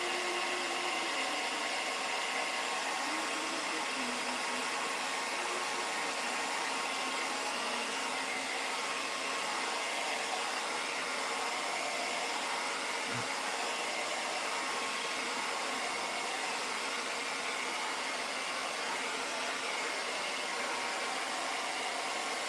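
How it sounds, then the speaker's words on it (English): A handheld hair dryer blows steadily to dry paint on a Christmas tree door hanger, a loud, even hiss and motor whir that runs unbroken for over twenty seconds with no talking. "let me get my hairdryer out. We're going to dry this real good"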